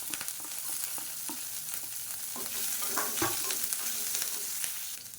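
Green chillies and curry leaves frying in hot oil in a pan, a steady close sizzle with occasional stirring scrapes and small pops throughout, no voices.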